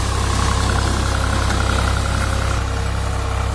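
A 1999 Swaraj 735 FE farm tractor idles steadily up close, its diesel engine chugging in an even, loud, continuous rumble with slight knocking and vibration, with no talking heard.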